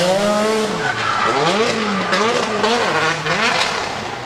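A 530-horsepower Nissan S15 drift car with an SR20 engine sliding during a drift championship qualifying run, its loud tyre squeal riding over a rising and falling engine whine that stays prominent and close throughout.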